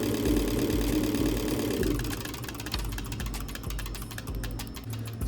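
Car engine running during fuel system testing, a steady mechanical hum at first, then a faster rhythmic ticking and whir as the RPM increases, close and moderately loud with no talk.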